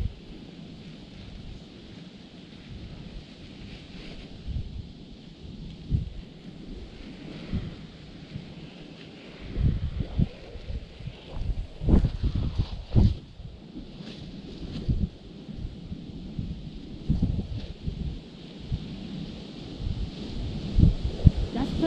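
Gusty wind blowing outdoors around a Skymonkey Stormdrifter 2.3 kite, rumbling steadily against the microphone with stronger buffeting gusts in the second half.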